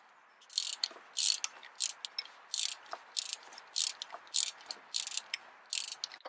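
Ratchet wrench turned to tighten the belt tensioner on a 2010 Subaru Impreza, a close series of about fourteen crisp clicking bursts in an uneven rhythm, with no talk.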